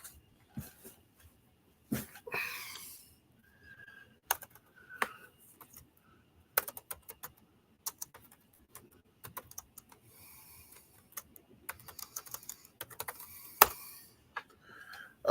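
Typing on a computer keyboard at a desk, with irregular bursts of close, crisp key clicks separated by short pauses, no talking.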